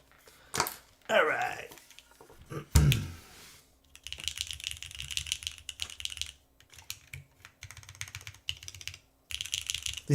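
A custom mechanical keyboard fitted with new keycaps is typed on in bursts of quick, clacky keystrokes, close and crisp, with pauses between runs and a few louder handling knocks near the start.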